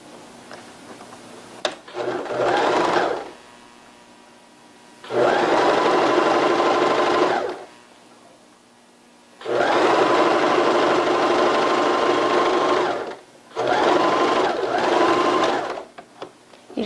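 A sewing machine stitches the side seam of a leggings skirt in four loud, close bursts of rapid whirring, each lasting one to four seconds, with quiet pauses between them.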